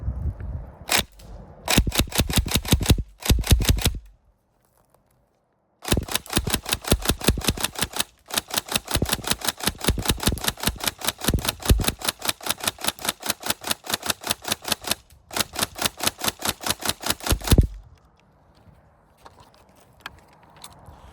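A Tokyo Marui 417 DMR NGRS airsoft rifle fires single shots in quick succession, loud and close, forming long runs of sharp regular cracks separated by short pauses, with no voices.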